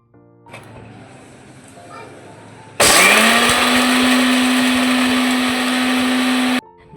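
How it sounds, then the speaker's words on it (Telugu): A mixer grinder switches on loudly and whirs steadily at high pitch for several seconds, then cuts off abruptly after faint background voices. "నాకు పెద్దగా మిక్సీ సౌండ్లు ఇట్లా గీరేటివి ఉంటాయి కదా"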